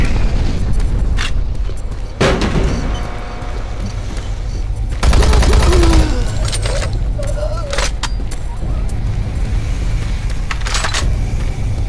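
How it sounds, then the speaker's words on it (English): Grenade blasts and gunfire in a Warhammer action game, loud booming explosions and scattered shots over a dense battle din, with brief voices in the mix. "I forget that I had these grenades."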